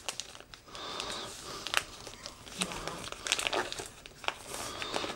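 Wrapping paper crinkles and rustles while a Christmas present in a cardboard box is wrapped, in irregular close crackling bursts of varying loudness, fairly quiet overall.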